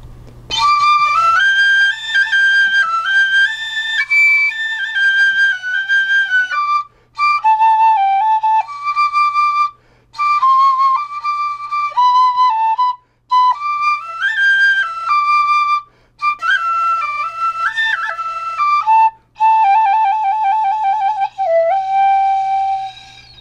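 A wooden whistle plays a clear, pure-toned melody with sustained notes and short pauses between phrases, loud and close.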